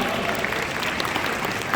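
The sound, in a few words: conference audience applause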